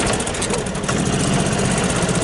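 A 1993 Club Car golf cart engine runs just after starting, a steady, loud, close idle with a rough, rattling knock and vibration throughout, and no talk.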